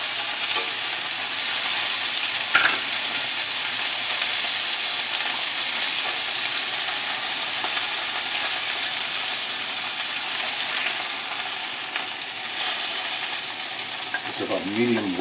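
Steaks searing in a hot pan, a loud, continuous hiss of frying fat and crackling sizzle close up, steady throughout with faint clinks near the end.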